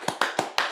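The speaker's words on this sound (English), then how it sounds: "Let's give him a nice clap." Hands clapping to welcome Astros call-up JP France: four quick sharp claps, close and fairly loud, in an even rhythm with no voices.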